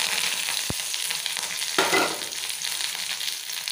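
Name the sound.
dried chilies and curry leaves sizzling in hot oil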